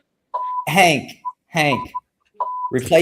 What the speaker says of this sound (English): That's not my smoke detector. That's my alarm clock.